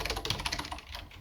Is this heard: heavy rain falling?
no